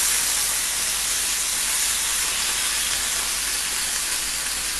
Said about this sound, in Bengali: এটা শ্যালো ফ্রাই হচ্ছে।